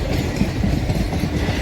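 A train rolls past nearby, with a continuous low rumble and rhythmic clickety-clack of wheels over rail joints, steady and fairly loud throughout, with no voices.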